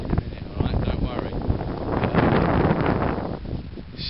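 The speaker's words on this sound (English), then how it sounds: "It's still windy, it's still howling into it." Strong wind howling across a carp fishing lake, heavy rumbling buffeting on the microphone that stays constant and loud throughout, with faint rustling beneath.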